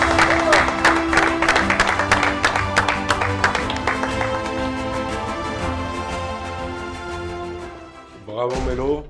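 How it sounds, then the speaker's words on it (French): Applause at a French esports awards ceremony, the Grizzly Awards, for a thank-you prize: loud clapping with dense transient hits over sustained music or tones, fading slightly and ending with a brief voice-like burst. "Bravo Mélo, on peut l'applaudir."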